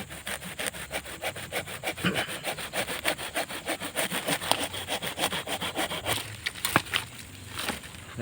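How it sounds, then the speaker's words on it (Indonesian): A hand saw cuts through a water apple (jambu air) branch bearing an air-layered graft, its rasping strokes repeating in a steady back-and-forth rhythm, close and fairly loud, with no talking. "kita harus menggunakan gergaji dan pastikan kita memotong untuk cangkokan ini dengan baik"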